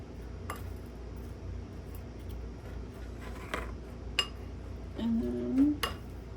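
Beans and cheese get mixed in a bowl, with a few soft clinks and scrapes of a utensil against the bowl over quiet room noise and brief faint squishing.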